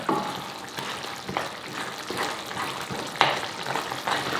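Pork ribs binagoongan being stirred in a pan, a steady sizzling fry with rhythmic scraping strokes roughly every second, close and moderately loud, with no voices.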